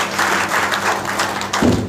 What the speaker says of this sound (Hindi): ताली बजाइए अपने लिए।